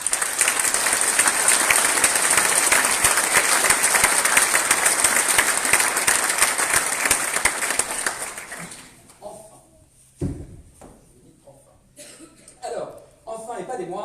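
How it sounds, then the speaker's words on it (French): Audience at a mayor's New Year's wishes ceremony in Duclair applauds municipal staff: dense, steady clapping for about eight seconds, then it fades out, leaving a few scattered sounds and brief speech. "vous aussi, ce soir, vous pouvez être applaudis"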